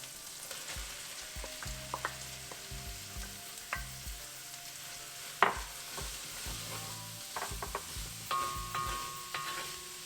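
Onions sizzle quietly in a pan with ginger garlic paste and spices, a steady low frying hiss broken by repeated scraping stir strokes and an occasional clack of the spoon.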